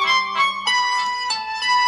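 A bright electronic melody plays through the small loudspeaker of a Huawei P40 Pro phone, a series of clear tonal notes in quick succession.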